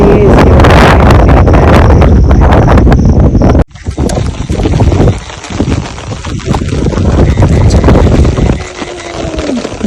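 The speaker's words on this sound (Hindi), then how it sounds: "यहाँ पे अच्छी हवा चल रही है" Strong wind blowing across an open farm with rice fields and plantation greenery, a loud, steady rush buffeting the microphone throughout.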